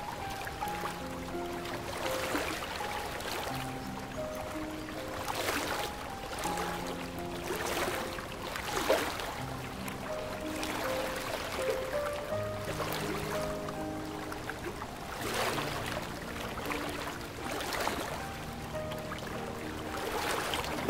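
In a fox cartoon, a boat moves along a river with regular paddle splashes every couple of seconds, soft and watery beneath a light musical score.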